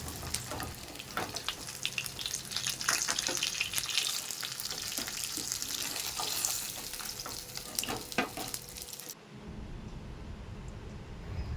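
Fish head frying in hot oil in a kitchen pan, a dense continuous sizzle with crackling pops and occasional stirring scrapes, close and fairly loud, cutting off sharply near the end.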